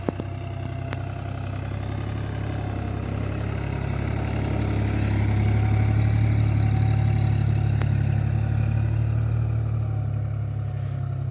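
A New Holland TT50 tractor engine runs steadily nearby, a loud low diesel drone with a constant rumbling hum that swells slightly midway and holds for the whole stretch, no voices.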